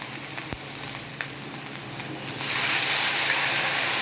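Water poured into a pan of frying taro curry with spices raises a sudden loud sizzle halfway through, following a quieter stretch of light frying with a few soft clicks.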